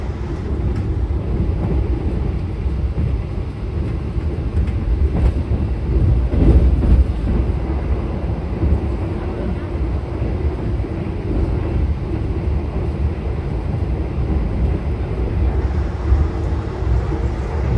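A Bogowonto passenger train runs fast through Rewulu station at about 115 km/h, a loud, steady rumble and roar of wheels and carriage heard from aboard, with no talking.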